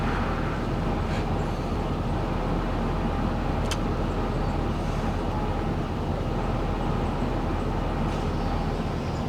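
A GMC truck's 6-liter engine with 237,000 miles idling, a steady low rumbling drone heard up close, with a few faint clicks over the constant hum.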